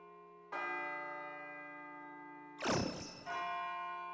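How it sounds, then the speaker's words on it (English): A bell in the Persona 3 FES video game tolls twice, each strike ringing out with a long humming decay, the second preceded by a brief noisy burst. "It sounds like a bell, but where's it coming from?"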